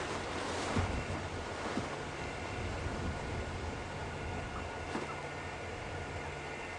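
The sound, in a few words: wind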